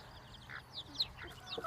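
A bantam hen forages on the ground with her speckled-down chicks, giving soft low clucks while the chicks cheep in short high peeps, faint and close in a quiet outdoor setting.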